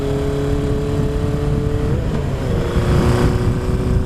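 A 1980 Kawasaki KZ1000 custom motorcycle cruises past with a steady engine hum that dips briefly and picks back up as it rolls through a corner, close and moderately loud without talk.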